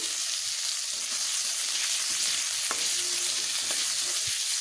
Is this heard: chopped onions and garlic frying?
yes